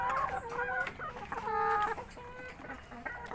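Laying hens in battery cages on an egg farm clucking, a busy overlapping chorus of close, loud cackles and calls from several birds, with no talk.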